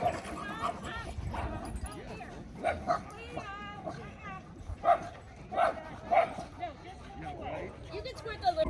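A pack of German Shepherds barks, yips and whimpers in a run of short excited bursts, fairly close, with people talking in the background.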